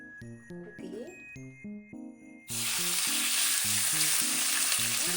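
Meat drops into olive oil in a hot pan and bursts into a loud, continuous close sizzle that runs alone to the end, following a short stretch of plucky background music.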